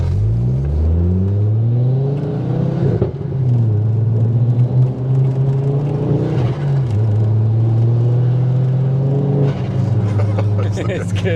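Ford Focus RS MK2 engine rumbling steadily while driving slowly in traffic, a loud low drone rising and falling in pitch with throttle, close and continuous throughout, with a person talking over it.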